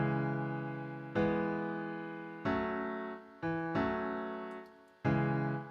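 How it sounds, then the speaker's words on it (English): The solo piano part of a song plays on its own, with sustained minor and major chords struck roughly every second and left to ring and fade between strikes. "The piano on its own sounds like this."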